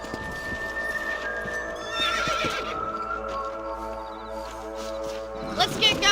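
A horse whinnies loudly amid clip-clopping hooves in Red Dead Redemption, with voices talking over the scene.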